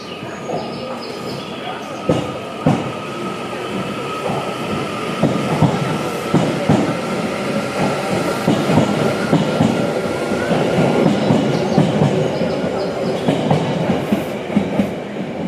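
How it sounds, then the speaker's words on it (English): The Metro Enoshima limited express subway train departs a Japanese station, close and loud, with rhythmic clickety-clack of wheels over rail joints, rumbling carriages and brief wheel squeals building over about fifteen seconds. "Alright, so I saw the Metro Hakone Enoshima leave."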